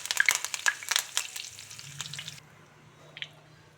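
Curry leaves hit hot oil with a burst of crackling and spitting that settles into a quieter sizzle after a couple of seconds, close and unaccompanied by talk.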